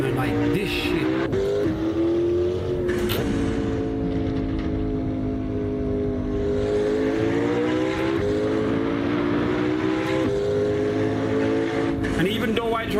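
McLaren car engine in the racing video game Assetto Corsa, a loud sustained engine drone with steady harmonic tones rising and shifting through revs, under someone talking throughout.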